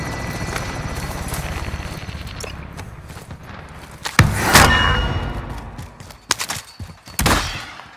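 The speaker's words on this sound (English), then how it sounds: "Helo is inbound for deposit." Helicopter arriving in Call of Duty: Warzone, a low rotor chop layered under game noise and clattering effects, swelling louder midway with sharp bursts near the end.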